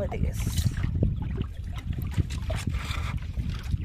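A wooden boat is rowed by hand on a river on a foggy day, with low rumbling water movement and scattered knocks and splashes nearby, heard under a person talking.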